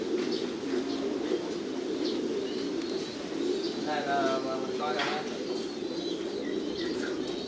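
Thai Titan meat pigeons kept in cages coo repeatedly over a steady background hum, with a clear burst of cooing in the middle and light chirps scattered around it.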